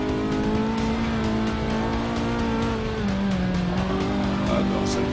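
A race car engine in Forza Motorsport 6 drones steadily at high revs, its pitch shifting with gear changes and faint tire squeal, under quiet game audio with intermittent talk.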